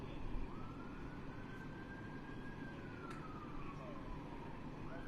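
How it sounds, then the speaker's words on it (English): A siren wails in the distance after a dirt bike crash in Cranston, its pitch sweeping slowly up and down over a steady rumble of background noise. "I can hear more sirens in the background."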